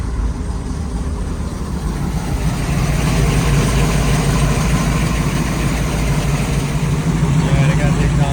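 A boat engine runs out of the water with its exhaust open, a loud, steady low rumble that grows slightly heavier partway through, while people talk over it.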